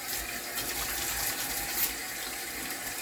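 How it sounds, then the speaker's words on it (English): Water runs steadily from a kitchen tap for hand washing with soap, a close, continuous splashing gush with no talk over it. "I'm going to wash with soap and water"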